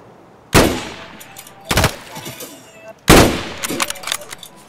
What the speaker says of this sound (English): Ooh, shot at the same time.